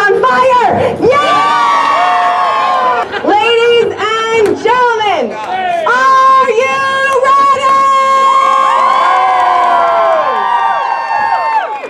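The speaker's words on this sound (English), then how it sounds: "I want you guys to go crazy. I want you to yell, cheer, make as much noise as possible" A Renaissance festival crowd at the Arizona Renaissance Festival yells, whoops and cheers loudly and without pause, with high children's shouts and rising screams layered over the continuous roar of many voices.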